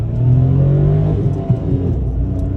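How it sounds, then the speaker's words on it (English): A 2022 Mitsubishi Mirage G4 ES with a manual gearbox revving out in first gear on a highway, its engine drone loud and steady from inside the cabin, with no speech over it. "Stepping back out onto this highway, we'll rev it out in first."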